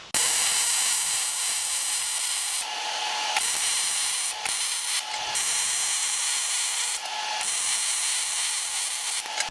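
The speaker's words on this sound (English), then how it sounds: "and then I'll weld it solid." Welding a drive shaft on a Datsun during a restoration, a loud close crackling hiss in several sustained bursts separated by brief pauses, with no talking.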